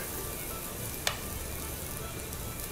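Food grilling on a grill rack set over a portable camping gas stove, a steady faint sizzle with one brief tick partway through, no voices.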